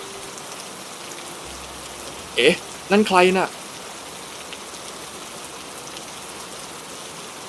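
Steady rain falls on surfaces as an even, close hiss that fills the scene, and a voice speaks briefly over it partway through.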